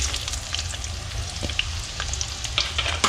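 Onion sautéing in a pan with oil and whole cloves. A steady, close sizzle and crackle with occasional stirring scrapes runs without pause, and no one talks.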